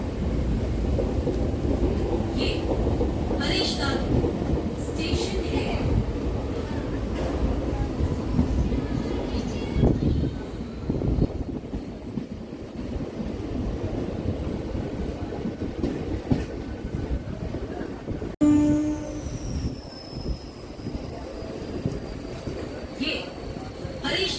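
Howrah-Amta local train running along its line, a steady broadband rumble and rattle throughout, with a brief whistle-like tone and clanks near the end, and talk faintly mixed in.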